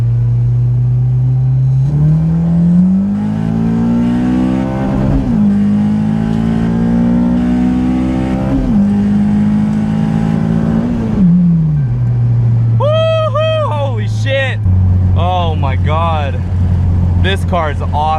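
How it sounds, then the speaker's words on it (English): A car engine revs repeatedly with a clutch being fixed, the pitch rising in long pulls and dropping between gear changes, loud and close, with a voice speaking over the engine. "This car sounds really good."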